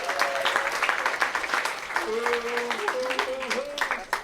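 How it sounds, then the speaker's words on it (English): An audience claps at a middle school percussion camp concert, with lively, loud applause mixed with cheering voices and a few whoops rising over the clapping. "Give them a round of applause."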